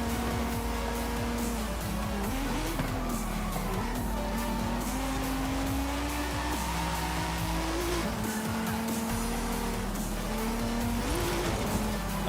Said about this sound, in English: I had to hold the handbrake a little bit to get the rear to slide out for that checkpoint